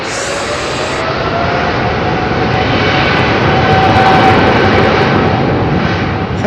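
Jet airliner engines roar steadily at Heathrow Airport, a loud, continuous broadband rumble with a faint whine, swelling slightly as the aircraft powers up on the runway, with no talking.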